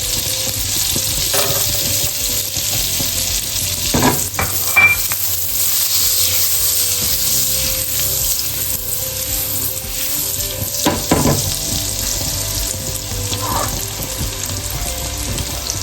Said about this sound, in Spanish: dejamos que tomen color los ajos